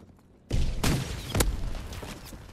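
A rifle grenade launched from an assault rifle in Call of Duty WW2, a sudden loud blast followed quickly by two more sharp shots and a fading rumble.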